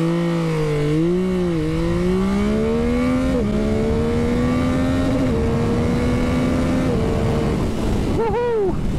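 Yamaha XSR 900 motorcycle engine revving hard and pulling through the gears, its pitch rising and dropping with each shift, loud and close throughout, ending with a quick throttle blip.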